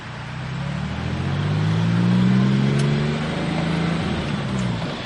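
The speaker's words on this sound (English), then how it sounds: "when you go up hard through the gears, it makes music, high-tech 4-valve sound that's throaty and deep" Porsche 996 Carrera sports car fitted with Fabspeed Maxflo mufflers accelerating hard through the gears, a loud, deep, throaty exhaust tone rising steadily in pitch and swelling over about five seconds, close by.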